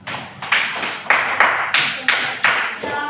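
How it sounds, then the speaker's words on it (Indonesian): A classroom group claps in unison in about seven sharp, evenly spaced bursts, close and loud, during an Indonesian lesson on procedure texts. "tepuk tangan"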